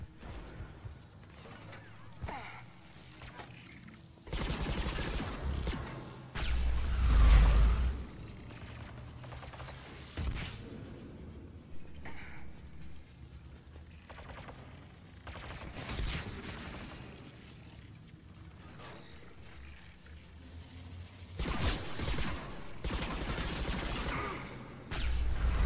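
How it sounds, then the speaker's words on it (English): Video-game gunfire in Mass Effect 3 comes as rattling bursts and mechanical clatter that swell and fade across the stretch, moderately loud with quieter gaps between volleys. "We're still shooting at something."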